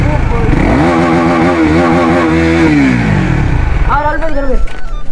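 A KTM Duke 390 motorcycle revs up close and loud, its engine pitch climbing and wavering before a second sharp rev near the end, with voices talking over it.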